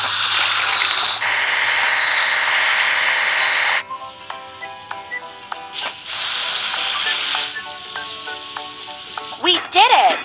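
Water spraying over a dining car of a train in a children's construction video game, a steady loud hiss for several seconds, then game sound effects with short musical tones and a voice speaking.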